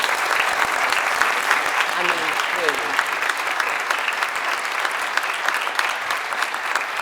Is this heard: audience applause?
yes